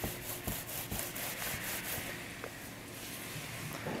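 A sponge rolls back and forth in a tray of Raptor coating, giving a close, rhythmic wet rubbing and squishing that repeats steadily without talk.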